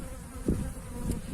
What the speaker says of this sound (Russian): Такие вот мои прекрасные пчелки, которые грызутся.